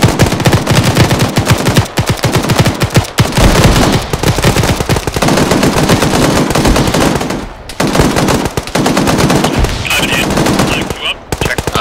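Sustained automatic gunfire in an ArmA 3 military shooter match, rapid machine-gun bursts and rifle shots crackling loudly and almost continuously, with brief pauses and overlapping distant shots.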